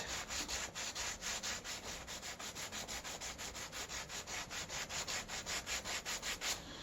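A Trek bike stem caked in rust is scrubbed in fast, even back-and-forth strokes, a close, steady rasping rhythm of roughly four strokes a second with no talking.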